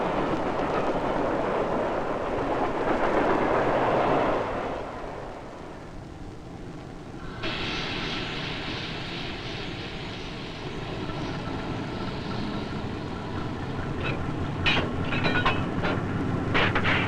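Freight train rolling past a crossing with a low, steady rumble, then a brighter metallic clatter of wagons on rails that persists, growing busier near the end; no voices.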